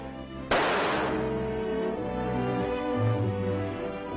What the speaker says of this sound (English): You can shoot a bullet into cotton and it will retain the gun barrel markings.